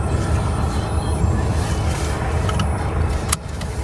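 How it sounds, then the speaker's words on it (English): A truck arrives at the Santa Pod raceway during the Festival of Power, its engine a steady, loud low rumble close by with a brief metallic clink near the end. "Truck's just turned up."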